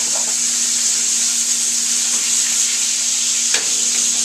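Butter sizzling in a hot pan alongside a steak, a steady bright hiss throughout with a faint constant hum beneath and one brief clink near the end.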